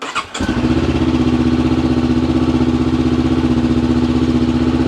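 A brief cranking burst catches, and a Honda NX500 motorcycle with a lithium battery and Black Widow exhaust fires up, settling into a loud, steady, throbbing idle close by.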